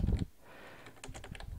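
Typing on a computer keyboard: a quick run of light key clicks, close and fairly quiet, after a brief low thump at the start.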